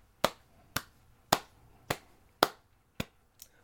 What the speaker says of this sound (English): Slow golf clap.